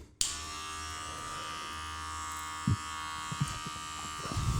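A Senior barber hair clipper motor switches on abruptly and runs with a steady, close electric buzz, with a few light handling knocks toward the end and no speech.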